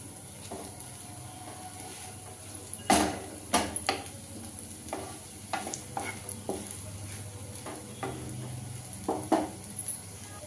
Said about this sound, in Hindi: यहाँ पे आलू को डालकर अच्छे से प्याज को साथ में भून लेंगे। इस तरीके से चला लेते हैं।